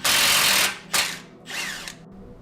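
An 18 mm lower shock absorber bolt and nut is loosened on a 1998-2005 Chevy Blazer, heard as three short, loud whirring power-tool bursts up close, the first longest.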